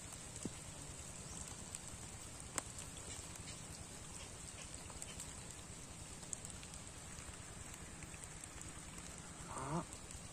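Continuous rain patters steadily outdoors on a fishing trip, with a few sharp isolated drips and a brief louder rustle near the end, and no talking.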